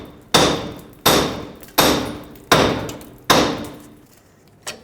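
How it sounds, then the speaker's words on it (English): Five heavy hammer strikes on a Toyota 4Runner tie rod land at an even pace, each ringing out and fading, followed by a lighter tap. "Take a hammer, hammer this area,"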